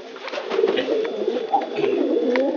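Pigeons cooing outdoors in a rice field, soft repeated low coos close by over a steady background hum, with no talking.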